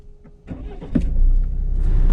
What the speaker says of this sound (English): All that is left is for me to press that engine start stop button.